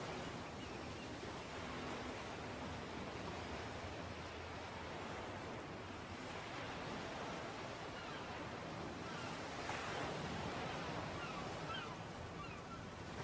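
Steady, continuous ocean surf washes and rolls in the fishing video game Dredge, a broad windy wash of waves without pause and with no voices over it.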